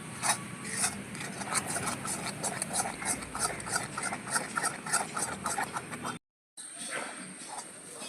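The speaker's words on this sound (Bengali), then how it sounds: "এবার ভালো করে নাড়িয়ে মিশিয়ে নেব" Spoon scraping and rubbing through a thick almond and milk powder sweet mixture in a pan, a steady rasping stir with repeated strokes, close and continuous, briefly cut off near the end.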